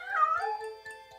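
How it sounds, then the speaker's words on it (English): A single drawn-out cat meow, close and clear, rising then sliding down in pitch, followed by faint soft taps. "because she meowed at Mom"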